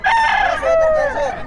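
A rooster crows loudly and close at a live chicken market, one long drawn-out crow with rising and falling pitch filling the whole moment, clear and dominant over the surroundings.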